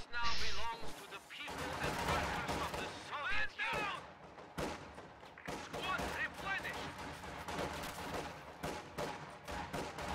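Video game gunfire in a real-time strategy match as Grenadiers engage conscripts inside a house, with dense overlapping shots and crashes over steady game noise and a commentator talking throughout.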